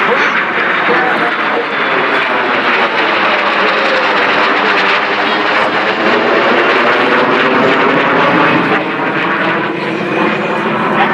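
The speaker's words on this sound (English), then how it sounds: "we have a KC-135 showing F-22 Raptor into the box here" A KC-135 tanker flies with an F-22 Raptor during an aerial refueling pass at the EAA AirVenture Oshkosh airshow, a loud, steady jet roar that stays constant and overwhelming throughout.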